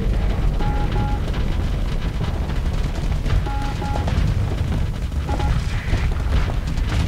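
Ship weapons fire and explosions in the space game Starsector, a dense rumbling barrage of booms and rapid gunfire that stays loud and continuous, with faint electronic tones popping through.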